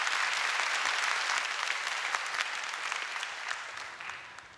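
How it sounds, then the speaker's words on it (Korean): An auditorium audience gives a tenor singer a standing ovation, dense clapping with sharp individual claps poking out, gradually fading toward the end. "이렇게 귀한 분들이 기립박수 해주시는 거"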